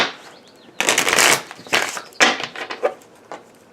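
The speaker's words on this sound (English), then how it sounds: "More shuffling and banging for your viewing pleasure." Close, crisp bursts of tarot cards being riffled and shuffled, followed by several sharp taps and knocks of the deck against a surface.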